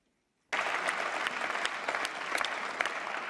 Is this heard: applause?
yes